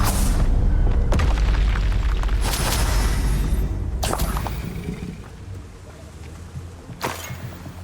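A Confringo fire spell explodes in Hogwarts Legacy as a deep booming blast that bursts out repeatedly, with several heavy impacts rolling over a loud rumbling battle bed that fades toward the end.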